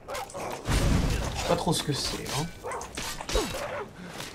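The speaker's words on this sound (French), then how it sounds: "Alors, c'est un chien zombie." A zombie dog in the Skyrim video game gives a few barks and yips amid game noise, and someone talks in French over them.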